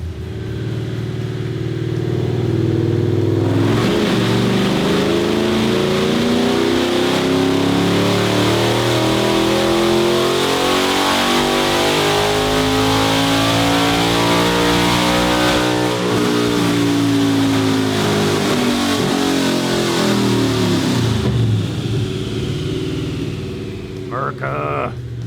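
A Gen 3 Coyote V8 in a 2018-or-later Mustang roars through open headers during a full dyno pull, climbing in a long loud sweep for about twenty seconds before backing off, very close and raw.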